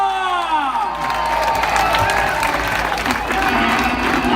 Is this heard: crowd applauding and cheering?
yes